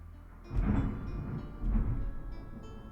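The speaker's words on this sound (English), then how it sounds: "Did you hear the thunder? Did you hear it?" Thunder rumbling during a thunderstorm, two low booming rolls about a second apart, each swelling and then fading into a continuous background rumble, moderately loud with no voices.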